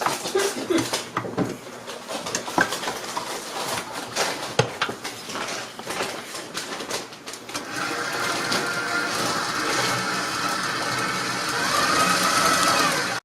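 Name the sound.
electric mixer mixing Oreo cupcake batter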